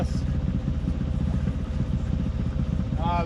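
A boat engine running steadily at about 1800 RPM, around half throttle, with a continuous low throbbing drone that stays loud and close throughout.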